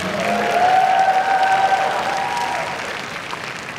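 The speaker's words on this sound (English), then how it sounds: "Another round of applause" An audience at a Lolita fashion show claps and cheers in a sustained burst that swells and then fades away, with a faint tonal hum in the room behind it.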